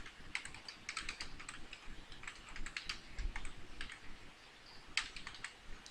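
Fast, steady typing on a computer keyboard, a dense run of light clicking keystrokes at close range, fairly quiet, with no voices.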